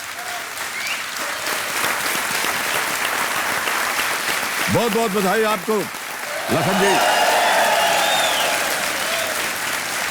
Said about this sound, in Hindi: तालियां बजती रहे देवियों सज्जनों जोर से